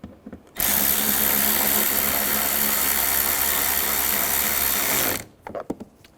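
A power ratchet tightening bolts on the driver-side window regulator of a 2008-2017 Buick Enclave: one steady, loud whirring buzz lasting about five seconds, with brief clicks and clatter just before and after, no talk.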